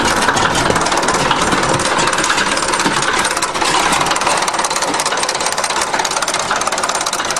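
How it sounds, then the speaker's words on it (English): A 1953 International dozer engine idles very slowly with a loud, steady, close-up rumble and constant mechanical rattling and ticking. "She's doing between 90 and 100 RPM right now. Barely popping that thing open. You can even hear the injector pump."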